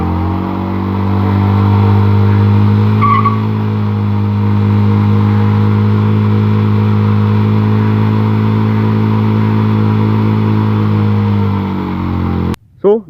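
A motorcycle engine revs hard and steadily at close range for a burnout, a loud sustained drone with strong harmonic bands, cutting out abruptly near the end; no clear tire squeal stands out.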